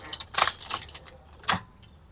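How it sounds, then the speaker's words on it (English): Car keys jangle in two bright bursts, a louder cluster early and a second shake toward the end, as they are put into a 2019 Ford E350 van with a 6.8L engine and a no-start fault, heard close with no talk. "put the keys in the vehicle,"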